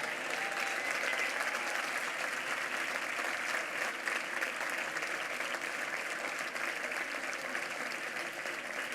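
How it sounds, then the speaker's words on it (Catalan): Sustained applause from a large audience fills a hall at the 2022 national gastronomy awards gala, dense steady clapping at even loudness throughout, with no talking. "Ara els vull demanar un aplaudiment per l'equip de sala."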